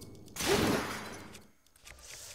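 A weapon shattering in Zelda Breath of the Wild: a single bright, crunchy breaking burst that rings briefly and then fades into quiet game ambience.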